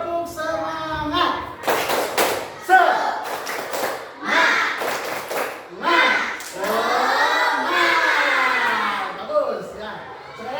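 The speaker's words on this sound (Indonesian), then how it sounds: "Bapak minta tepuk semangat" A school class performs a rhythmic spirit clap, with bursts of group clapping mixed with loud chanted voices in a steady, energetic pattern inside a classroom.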